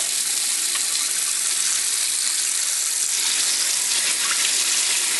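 Water runs steadily from a tap while herb-dyed laces are rinsed, a loud continuous hiss and splash with no talking.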